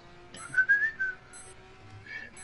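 A person whistles a short rising and falling tune, fairly close and clear, with a second brief whistled phrase near the end amid faint background noise.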